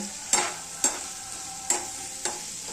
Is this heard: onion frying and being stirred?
yes